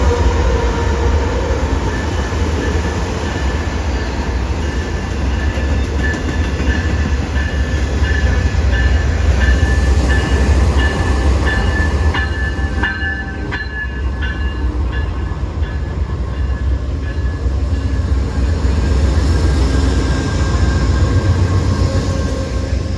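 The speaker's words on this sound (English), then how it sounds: "And here comes our train from Amtrak's Oakland Yard" An Amtrak passenger train with double-decker Superliner cars rolls into a station close by with a loud, steady rumble, rhythmic clanking of wheels over rail joints, and faint metallic squeals.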